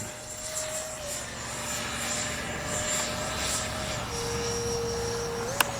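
A Freewing F-16 70mm EDF radio-controlled jet whines past in flight, a thin steady fan tone that shifts pitch as it manoeuvres, fairly faint and distant against outdoor background noise.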